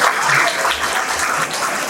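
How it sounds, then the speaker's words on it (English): A school auditorium crowd at a Teachers Day celebration breaks into sustained applause, a dense, steady wash of clapping that holds at an even level from start to finish with no talk over it. "Can I give a huge round of applause?"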